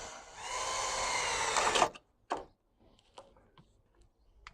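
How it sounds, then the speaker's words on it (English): A power drill whirs steadily for about two seconds boring a hole through a wooden brace, then stops, followed by a few faint clicks and knocks. "take the drill, pop a little hole through the brace on the back here"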